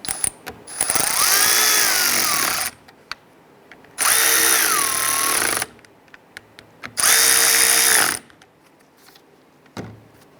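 Three sustained whirring bursts from a power ratchet driving bolts on the driver's side window regulator of a 2005-2010 Chrysler 300, close and loud, with short quiet gaps and faint clicks between runs.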